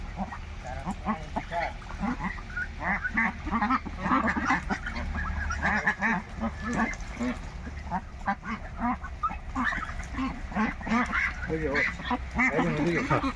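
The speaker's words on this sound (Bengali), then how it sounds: "এগুলো ফার্মি টাইপের হাঁস" Pekin ducks on a duck farm quack and honk in a busy, overlapping chorus that carries on steadily throughout, with a person talking at times beneath the birds.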